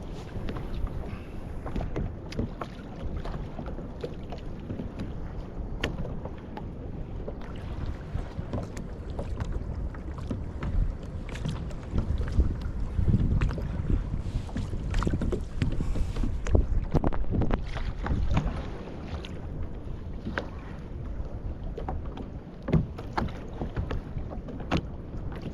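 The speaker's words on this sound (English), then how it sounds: "Only the waves slapping the kayak can be heard." Waves slap against a fishing kayak off the Algarve coast in Portugal, with irregular close knocks and splashes over a continuous wash of water and wind buffeting the microphone, and no one speaking.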